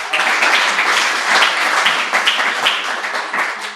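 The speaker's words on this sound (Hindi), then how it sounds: "एक एक ताली अपनी माँ के लिए ज़रूर बजाइएगा" An audience claps together for their mothers at a Hindi poetry recitation, a dense, steady wash of applause sustained throughout with no talk over it.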